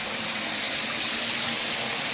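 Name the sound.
fresh water flowing in a mining tunnel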